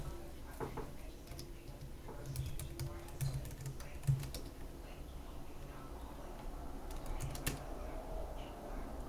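Quiet keystrokes as a password is entered on a computer keyboard, a few short bursts of tapping separated by pauses, soft and close.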